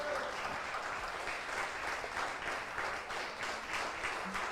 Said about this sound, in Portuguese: Se você pode, diga amém, aplaudindo a Jesus Cristo.